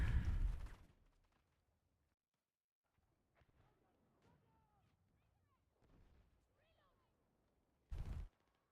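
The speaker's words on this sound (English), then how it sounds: "Taking fire." Gunfire in a video game comes in two sharp, loud bursts, one at the start and one near the end, separated by a long quiet stretch with faint scattered in-game sounds.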